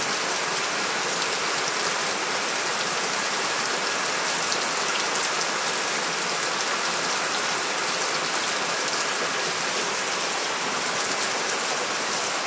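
Heavy rain pours steadily, a dense, unbroken hiss of drops striking surfaces close by, with no voices.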